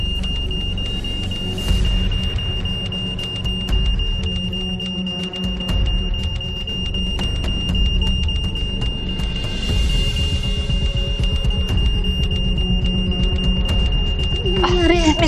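An alarm rings out as people react to a possible fire, a steady high electronic tone running under the whole stretch amid loud, busy background noise and commotion.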